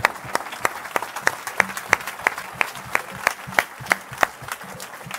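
Congregation applause during a French-language church sermon, a broad crowd clapping with sharp rhythmic claps punching through at a steady beat, as if clapping in time.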